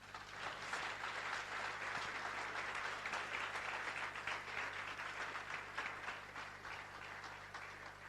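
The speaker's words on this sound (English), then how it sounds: "Give them a round of applause." Audience at a community festival keynote breaking into steady applause, a dense, even field of clapping heard from a distance that stays consistent for about eight seconds.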